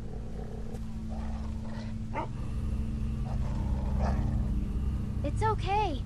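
Dog in The Walking Dead Season 2 video game gives short barks, then rising, whining yips near the end, moderately close over a dense low rumble with voices mixed in.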